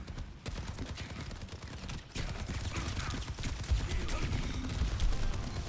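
Rapid, sustained gunfire from the video game Overwatch 2 rattles on for several seconds in dense bursts, with only a brief dip partway through.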